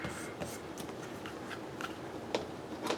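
Scissors snip through paper at a crafting table, close and quiet, with a run of soft crisp cuts scattered over a steady background hiss.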